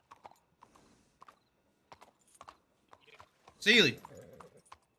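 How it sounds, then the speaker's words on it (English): Horse hooves clip-clop in a western roleplay video game, a sparse walking rhythm of soft knocks under speech, followed by a loud burst that sounds like a horse neighing. "Get on your horse."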